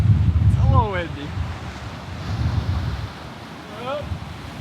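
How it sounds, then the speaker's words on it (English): Wind blows hard across a rocky coastal path, a steady gusting rush and microphone buffeting with faint surf beneath, as people talk briefly over it. "It's a little windy."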